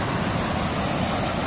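Steady, dense roar of sea waves and surf on a littered shoreline where a river flows into the sea, filling the whole moment with continuous broadband wash and no speech.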